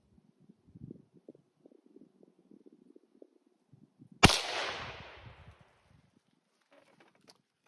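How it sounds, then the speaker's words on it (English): A single sharp rifle shot from a Citadel Trakr .22 WMR cracks loudly and rings out into a fading tail, set against faint rustling and low murmurs outdoors while shooting a magazine for grouping. "we're gonna finish shooting this mag for grouping"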